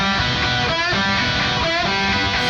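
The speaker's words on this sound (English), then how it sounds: "whenever you release that G bend, it'll kind of twang out on you like this" Electric guitar sustaining a loud, distorted tone in a hard-rock lick, with a G-string bend released into a brief wavering twang partway through; the guitar plays alone without any voice.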